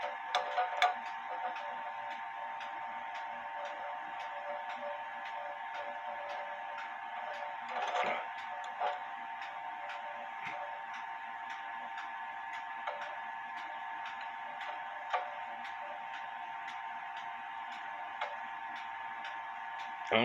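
A pendulum clock set in beat ticks close by with a steady, even tick-tock rhythm that runs unbroken. One slightly louder clunk falls partway through.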